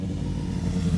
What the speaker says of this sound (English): Man, there's a lot of motorcycles and planes out.